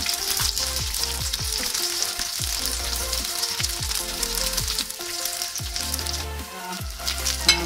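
Paneer cubes deep-frying in hot oil for a second, crisping fry, a steady loud sizzle and crackle with repeated low clunks of a ladle against the pan, no voices.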